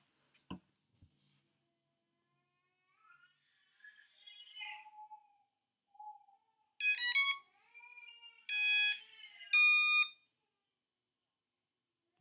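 Electronic tones from a drone's ESCs during a firmware update in RaceFlight One come as three loud bursts of rapid, trilling beeps separated by short gaps, with quieter chirps before them.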